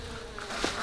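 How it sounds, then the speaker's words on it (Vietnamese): Bees swarm over flowering mint plants at a honey farm, a steady close buzzing drone that fills the whole moment outdoors, no speech. "rất là nhiều ong này, con ong nó lấy nhiều, nó chỉ bâu vào chỗ này này"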